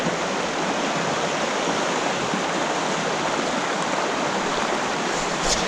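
High, fast stream water in Southeast Kentucky in winter rushes in a loud, steady broadband roar that holds without a break.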